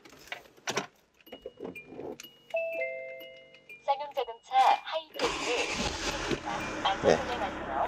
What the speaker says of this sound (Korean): 시동 한번 걸어 보도록 하겠습니다